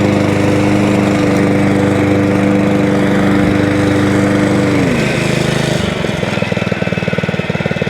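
A Honda GXV160 engine on a Kaaz Lawnflight mower runs loud and close, settling from a steady higher drone into an even, thudding idle with a rapid, regular pulse.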